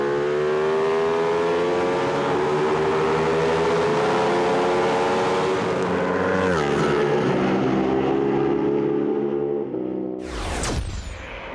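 A Ducati 1299 motorcycle accelerating hard down the nearly 900-metre start-finish straight at Kyalami, a loud close engine note climbing steadily in pitch through the gears before a sharp change near the end.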